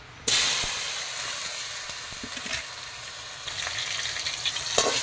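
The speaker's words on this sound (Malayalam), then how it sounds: "ലേശം നെയ്യ് ഒഴിച്ചു കൊടുക്കണം അതിൽ പഴം ഇട്ട് കൊടുക്കാം" Banana pieces dropped into hot ghee in a pan, a loud sizzle bursting in abruptly and then holding steady and close, with a faint clink near the end.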